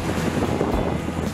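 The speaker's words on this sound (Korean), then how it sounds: "거대한 바위들이 외홍치 해안 쪽을 가득 채우고 있어서 파도가 더 강하게 밀려오는 것 같아요." Winter sea waves surge against large rocks on the coast at Sokcho, a steady roar of surf with heavy wind buffeting the microphone.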